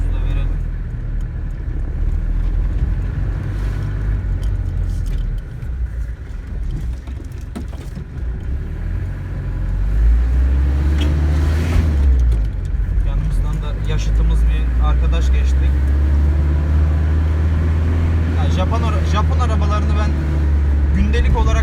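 A Mitsubishi L300 engine rumbles steadily as an oncoming car approaches and passes on the road, with people talking over the engine noise.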